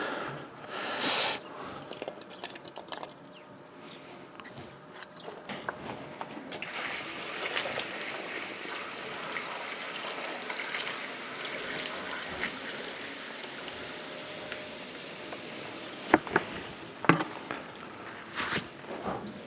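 Water trickles and gurgles as it is poured into a French drain wrapped in plastic and filled with polystyrene, a faint, steady liquid wash with a few sharp splashes and knocks near the end.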